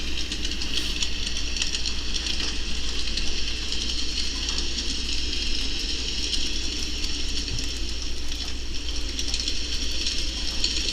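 A train rolls along in a railroad video game, a steady continuous rumble and hiss with faint rhythmic clatter holding at an even level throughout, with no talk over it.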